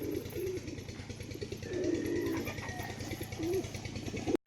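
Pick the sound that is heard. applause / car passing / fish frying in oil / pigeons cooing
pigeons cooing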